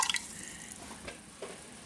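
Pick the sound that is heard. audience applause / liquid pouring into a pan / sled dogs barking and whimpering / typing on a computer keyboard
liquid pouring into a pan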